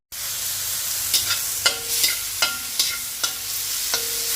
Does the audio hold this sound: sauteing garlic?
yes